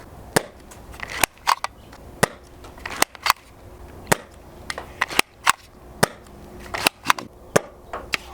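A Nerf Fortnite Flintlock blaster fires darts in a series of sharp, close snapping pops at irregular intervals, each followed by faint clicks and handling noise.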